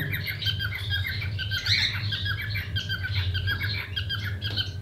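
A male cockatiel or finch in an exotic bird aviary gives repeated chirping, squawking calls over a steady background hum, with other small birds chattering nearby.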